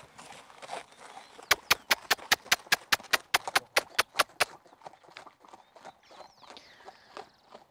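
A horse trots on a firm surface in a straight line, giving a crisp, evenly spaced series of about fifteen sharp hoof clip-clops close by, then fading into softer scattered steps and faint background noise.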